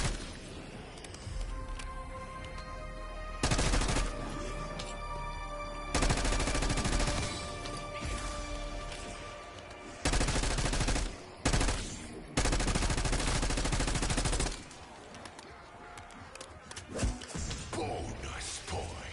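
Hand cannon gunfire in a zombies video game comes in loud, dense bursts separated by short quieter gaps.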